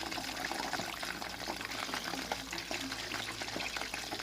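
Crispy pork belly frying slowly in oil over low heat, giving a steady, close sizzle with fine crackle and bubbling throughout.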